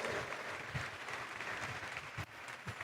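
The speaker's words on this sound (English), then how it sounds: "Can we please give him a round of applause" Audience applause for a university Vice-Chancellor at an inaugural lecture: continuous, dense clapping from a large crowd, heard at a low level for the whole stretch.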